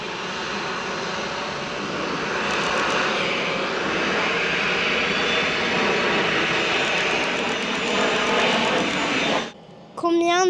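Small private passenger plane of about seventy seats accelerating for takeoff at an airport, a loud steady engine roar sustained for several seconds before cutting off, with people speaking at the end.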